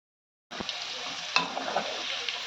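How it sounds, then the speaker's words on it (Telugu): Indian gooseberries fry in hot oil for pickle, a dense steady sizzle that starts abruptly after a brief silence and crackles on with small pops and occasional stirring taps. "కొంచెం పచ్చదనం పోయేదాకా వేపుకోవాలండి"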